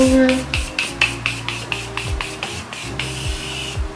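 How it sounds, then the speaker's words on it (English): A rapid series of short misting sprays from a Tarte setting spray on a face, about a dozen quick hissing pumps in steady rhythm, close to the listener. "for my setting spray for my face, I'm going to go in with Miss Tarte"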